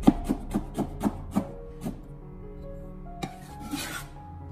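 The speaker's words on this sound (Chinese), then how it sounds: "同样的将它改刀切成小姜片" A kitchen knife cuts fresh ginger into small slices on a board, a run of six or seven crisp, evenly spaced chops near the start, then slower scattered knocks and a brief scrape.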